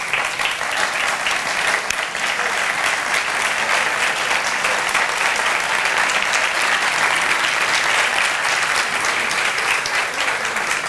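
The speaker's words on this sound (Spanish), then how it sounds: "Enhorabuena, aplauso." Sustained audience applause at a business award gala in Finestrat, steady and dense clapping from a large crowd filling the room without pause.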